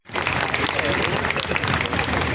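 Dense, steady applause from the audience at an All India basketball tournament fills the clip after a brief silent start, loud and sustained throughout.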